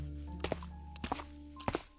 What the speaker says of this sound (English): only the echoing sound of my footsteps breaks the silence